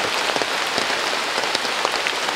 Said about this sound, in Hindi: वरना बाहर बहुत तेज़ बारिश हो रहा है।